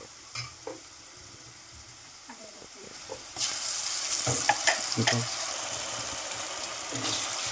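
Ginger paste fries with onions and curry leaves in a pan for a village-style chicken fry. Quiet at first, then a loud, steady sizzle with scraping stirs close by.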